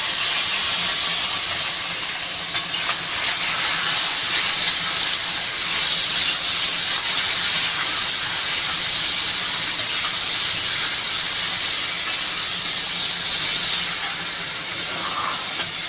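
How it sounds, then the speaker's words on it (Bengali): Vegetables tipped into a hot pan for a Bengali fish curry, a loud, dense and continuous hiss of sizzling and steam that stays even throughout. "বন্ধুরা এবার আমি এই যে সবজিগুলো ঢেলে দেবো"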